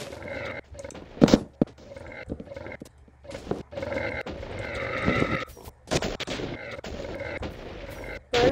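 A zombie shooter game fills with loud, booming explosions and sharp blasts in irregular bursts, mixed with chaotic roaring effects that rise and fall throughout.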